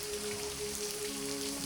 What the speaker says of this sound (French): Petite cascade naturelle.